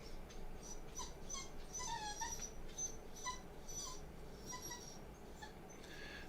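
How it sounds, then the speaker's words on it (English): A dog makes high, repeated whimpers and short yips across the whole stretch, fairly close, over a steady low indoor hum with no talking. "what are we barking at?"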